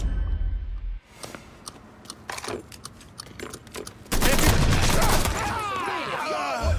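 Gunfire from the video game Mafia III, a burst of shots and then a sustained loud barrage in the second half, with voices talking over it.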